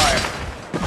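Gunfire from a weapon in the mobile battle royale game Apex Legends Mobile, a loud dense burst at the start that fades briefly, then picks up again near the end.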